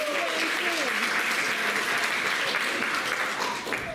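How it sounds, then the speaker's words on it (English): Crowd applause at a live magic show, steady sustained clapping filling the room, with a voice and cheers rising briefly over it. "Give Tim a round of applause"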